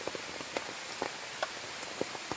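Heavy monsoon rain falling outdoors in rural Konkan, a dense steady patter with scattered louder drops striking nearby surfaces, with no voices.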